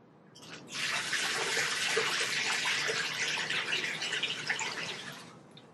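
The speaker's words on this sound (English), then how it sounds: "So, waterfall." A Bullfrog M Series spa's hot tub waterfall runs steadily, a loud continuous rush of falling water that starts abruptly and keeps going without pause.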